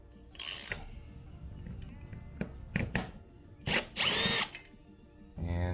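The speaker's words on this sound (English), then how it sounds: "then we'll use the drill to take it out the rest of the way" A power drill removing screws from a Recaro Sportster CS car seat whirs in several short bursts, with longer high-pitched runs near the end, close and loud, separated by brief pauses and clicks.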